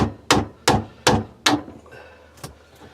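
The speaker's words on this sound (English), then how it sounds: "Just try and tap it with an hammer" Five sharp metallic hammer taps land in a steady rhythm, followed by two fainter taps after a brief pause, close and clear with no talking.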